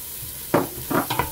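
Chopped bell pepper frying in oil in a pan: a steady soft sizzle with three or four short scraping stirs, close by, and no talking.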